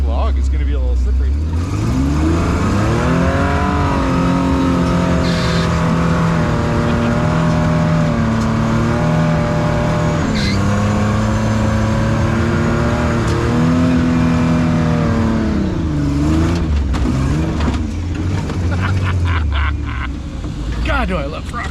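An off-road rock crawler's engine drones loudly and continuously, revving up and down with sweeping pitch changes as it climbs over rocks and a slippery log, with a voice talking over it.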